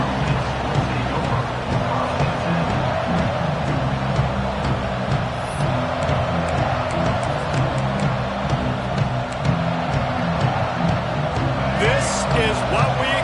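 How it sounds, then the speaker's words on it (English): Stadium crowd at a college football game between Utah and Ole Miss, a dense, steady roar of voices and noise filling the whole stretch, with a commentator talking over it. "This crowd ready to make its presence known."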